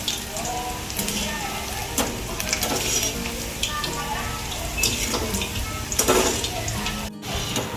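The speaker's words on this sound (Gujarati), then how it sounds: "હવે જોઈ શકો છો આપણી ભજી તળાઈને તૈયાર થઈ ગઈ છે" Kumbhaniya bhajiya fry in oil over a medium gas flame with a continuous close sizzle and bubbling, broken by occasional clinks and scrapes of stirring.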